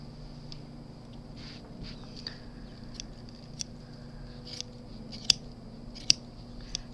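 Scissors snip through a tufted rug pile, a series of irregular short clicks and crisp cuts, with two sharper, louder snips near the end, close and otherwise quiet.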